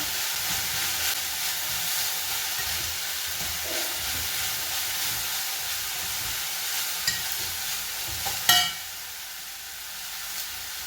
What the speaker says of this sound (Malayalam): നന്നായിട്ടൊന്ന് ഇറക്കി മറിക്കാം